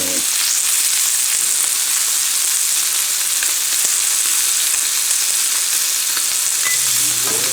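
Rack of lamb chops sizzling on an indoor grill, a steady loud frying hiss that runs unbroken throughout with a few faint clinks, no talking.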